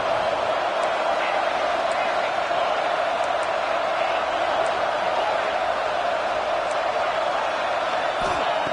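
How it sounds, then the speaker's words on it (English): A home stadium crowd roars steadily in a college football video game, a dense, even wash of cheering with scattered faint whistles and shouts holding constant throughout. "this home crowd is fired up and ready to make a difference today"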